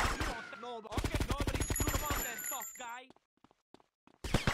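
Rapid gunfire in GTA Vice City crackles as a fast, loud burst of shots, a second volley following, then sparse pops before another burst at the end; a voice talks over parts of it.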